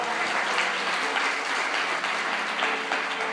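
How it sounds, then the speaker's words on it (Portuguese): A church congregation applauds during a worship service, dense even clapping filling the room for a few seconds without speech. "Você pode aplaudir o Senhor?"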